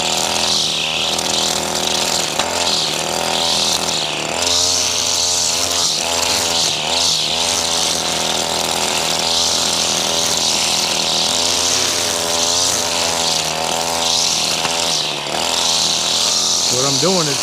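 A straight-shaft string trimmer runs steadily while cutting grass around a truck, its engine whine loud and close, rising and falling with throttle changes throughout.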